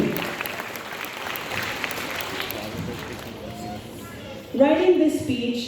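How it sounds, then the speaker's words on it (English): Graduates at a graduation ceremony applaud themselves, a broad wash of clapping and crowd noise that thins out before a voice begins speaking near the end. "let's give ourselves a round of applause."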